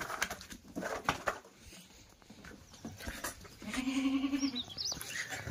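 A goat bleats once, a clear wavering cry near the end, amid rustling and shuffling sounds of goats feeding close by.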